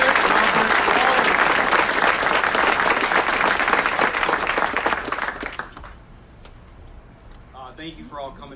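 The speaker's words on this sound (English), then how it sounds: "Another big round of applause." An audience at a city council meeting gives a big round of applause, loud and dense for several seconds before thinning out and fading, after which a voice begins speaking.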